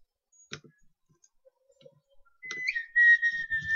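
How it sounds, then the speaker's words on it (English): A person whistles a sustained, slightly wavering tone from about 2.5 seconds onward, loud and close, following a few faint clicks and ticks, with no talk during the whistle. "Oh, don't whistle! Don't whistle."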